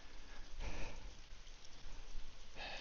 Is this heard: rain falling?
yes